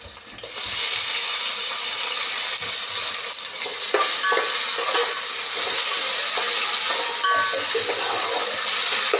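Onions, green chillies and tomatoes fry in a pan, a steady bright sizzle running throughout with a few soft stirring clicks and scrapes, close and fairly loud with no voices.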